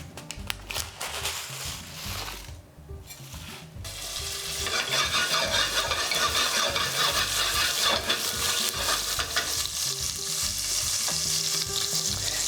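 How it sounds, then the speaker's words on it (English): Potatoes frying in hot oil with chilies and toasted cumin seeds for a potato and tomato curry, a steady close sizzle that swells louder after a brief lull and keeps crackling continuously. "They're starting to get hot and they're starting to sizzle."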